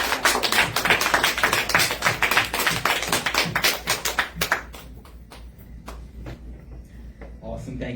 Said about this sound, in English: Can we get one more round of applause for both of our speakers today?